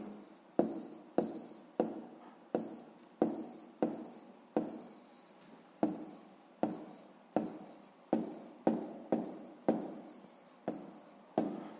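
A pen or pencil scratches out an answer on paper in a run of short, regular strokes, close and quiet with brief pauses between them.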